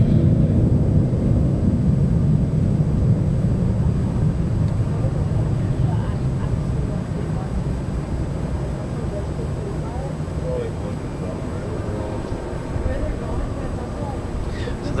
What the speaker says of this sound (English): So that's Delta 2028 headed to Salt Lake City.